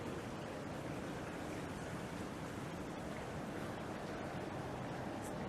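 Steady splashing of a water feature at a residence entrance at Laurel Residences, Bangsar South, a constant broadband wash with no break, moderately loud and up close, with no one talking.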